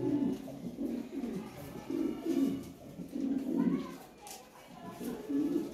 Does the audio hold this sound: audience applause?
no